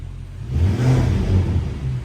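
An Audi RS7 fitted with downpipes gives a short, gentle rev, its deep exhaust rumble swelling and easing back to idle, close by and loud.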